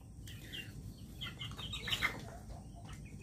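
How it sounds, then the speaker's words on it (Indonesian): Chicks and young chickens in a coop make soft chirps and peeps while being fed, with some rustling and fluttering under a low background hum. "Saya lagi memberikan makan untuk anak-anak ayam saya."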